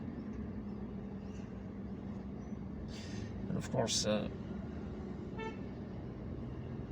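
Stalled traffic on Bas Jarrah Road in Algiers makes a low, steady rumble of idling engines, with a couple of short car horn toots rising midway while someone talks over it.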